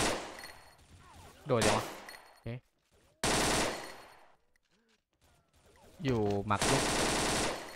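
Automatic gunfire in the online shooter XSHOT, played in a ghost mode, heard as three loud bursts separated by near silence, while people talk in Thai between and over the shots.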